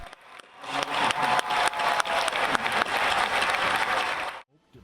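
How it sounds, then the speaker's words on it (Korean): Space researchers in a mission control room bursting into cheers and sustained applause as the UAE's Hope Mars probe reaches orbit, dense clapping and shouts that stop abruptly. "숨죽여 화면을 지켜보던 우주 연구원들 사이에서 환호성이 터집니다."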